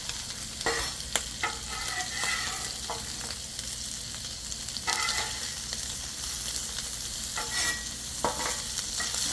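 Potatoes crisping on a Blackstone griddle, a steady close sizzle with bursts of spatula scraping and clatter as they are flipped.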